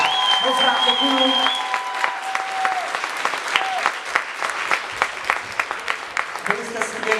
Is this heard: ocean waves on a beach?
no